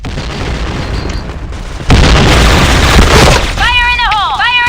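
A grenade explodes in a video game: a loud, broad blast lands about two seconds in and rumbles for over a second before giving way to warbling electronic tones, with voices and game noise running throughout.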